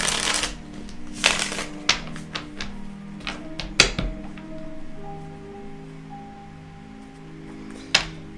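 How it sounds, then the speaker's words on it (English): Tarot cards being shuffled by hand, a series of soft riffling taps and snaps, close and quiet over a faint background music bed. "Give it one more shuffle."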